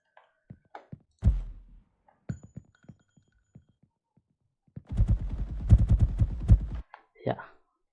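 Enemy gunfire in an Unreal Engine 5 video game: a few scattered shots, then a sustained burst of rapid automatic fire, moderately loud, with faint voice sounds in the gaps.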